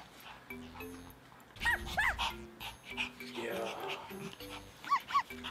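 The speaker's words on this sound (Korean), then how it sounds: "강아지들이 이렇게 노는 것만 봐도 재밌어요" Small dogs playing indoors on non-slip floor pads, yipping, whimpering and barking in short bursts amid scrabbling, with people talking faintly underneath.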